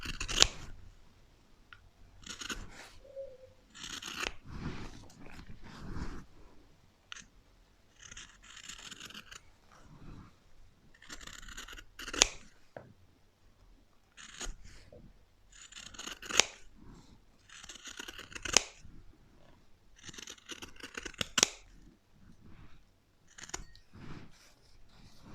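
Scissors cutting fabric for a sewn Christmas decoration, repeated crisp close snips in irregular clusters with quiet pauses between cuts.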